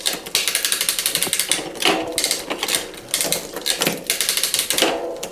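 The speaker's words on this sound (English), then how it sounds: "you see that? It just kind of went up a little bit more than it wanted to on that shift, and that's making some noise" The rear derailleur on a Trek FX bicycle clicks and whirs as it shifts through the gears, with quick ratcheting bursts in an uneven rhythm close by and short pauses between shifts.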